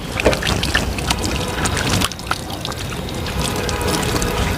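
Water pouring and trickling from a foot-operated, hands-free handwashing tap at a public facility, a steady splashing flow running throughout at close range with no talk.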